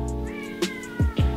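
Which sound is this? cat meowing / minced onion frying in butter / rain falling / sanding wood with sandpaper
cat meowing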